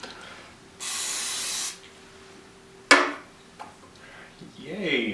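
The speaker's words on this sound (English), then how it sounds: "So now we're going to try a little PAM non-stick spray." PAM non-stick cooking spray hisses from the can in one steady, close burst lasting just under a second, followed by a sharp click and some faint handling noise, with a brief voice near the end.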